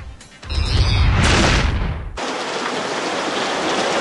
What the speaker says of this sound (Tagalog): Sa gitna ng malakas na ulan